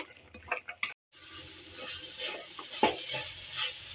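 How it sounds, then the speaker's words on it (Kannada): Finely chopped vegetables fry in oil in a pan for a pasta dish, with a soft, steady sizzle and some stirring scrapes close by after a brief pause. "ಮುಚ್ಚಿ ಒಂದು ಐದರಿಂದ ಹತ್ತು ನಿಮಿಷ ನಾನು ಎಣ್ಣೆಯಲ್ಲಿ ಬೇಯಿಸ್ಕೊತೀನಿ"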